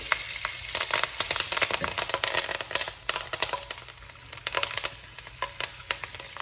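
Thyme hitting hot olive oil and butter in a pan, a busy crackling sizzle with sharp popping bursts, close and fairly quiet, no voices.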